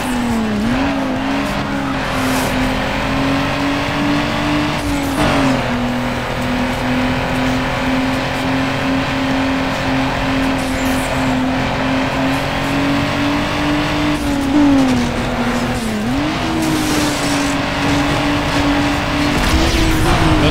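A Nissan Skyline GT-R R34 races in Need for Speed Underground 2, its engine droning loudly and steadily with rising revs and brief drops at gear shifts, plus occasional tire squeal, with no talking.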